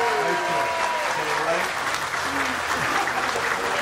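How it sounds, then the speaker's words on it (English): An audience at a political endorsement event for a Georgia governor candidate gives a sustained round of applause. The clapping is steady and full, with a voice talking faintly under it. "Y'all give Everett Grace a round of applause"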